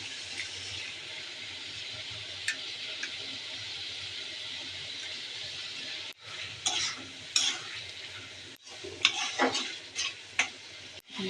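Catla fish pieces cooking in mustard masala in a pan, a low steady sizzle at first, then a burst of louder stirring scrapes and clatters near the end.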